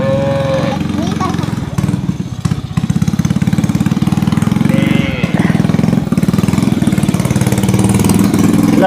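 A modified motorcycle engine idles with a rough, throbbing pulse, loud and close, running steadily throughout while a person talks over it.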